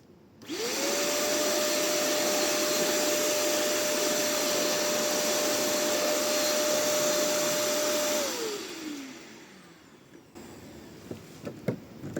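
A Machtz MVC-1320 P construction vacuum, reversed to work as a compressor, whirs up, blows air with a steady high whine for several seconds, then winds down, followed by a few faint clicks.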